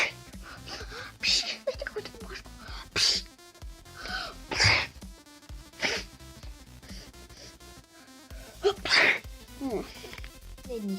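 A person imitates continuous allergic sneezing in a comedic sketch, with a string of separate sharp sneeze bursts and breathy gasps and snorts spaced a second or two apart, close and fairly loud.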